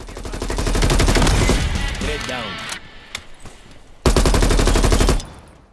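Rapid automatic gunfire in the video game Call of Duty: Black Ops Cold War rattles in two loud, sustained bursts separated by a short lull, with a voice speaking in between.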